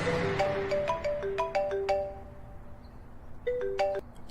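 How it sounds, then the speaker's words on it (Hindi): A phone ringtone plays a bright, chiming melody of quick descending and rising electronic notes, pausing briefly before a short second phrase starts, clear and close with no speech over it. "तभी उसका फोन बजा।"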